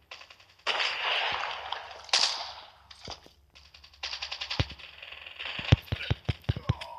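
Gunfire in the video game Call of Duty, with bursts of sharp shots, some rapid and some single, mixed with whooshing game effects and explosions, loud and alone with no talk.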